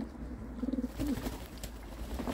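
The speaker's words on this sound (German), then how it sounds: "Ich habe meine Tauben gerade mal rausgelassen, nehmen gerade ein Bad." Homing pigeons bathing outdoors in sunny weather give soft, low coos in a few short bursts over a steady background hiss.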